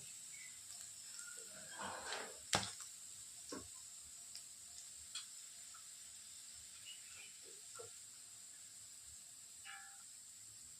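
A pinch of asafoetida sizzles in hot oil while cooking a spicy besan vadi dish, making a soft, steady hiss with a few faint clinks and stirring taps over it. No one talks.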